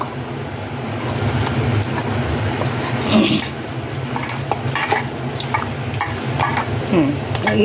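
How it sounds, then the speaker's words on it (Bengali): A spoon scrapes and clinks steadily in a bowl as ground spice pastes, including chili paste, are mixed together. The stirring runs continuously at close range. "দেখুন একে একে আমি এগুলো সব মেশাচ্ছি।"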